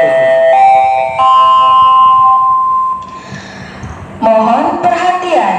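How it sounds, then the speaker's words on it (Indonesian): A school entry bell at a junior high school rings loudly as a sustained electronic tone for about three seconds, with further tones and a public-address voice starting near the end. "bel tanda masuk telah berbunyi"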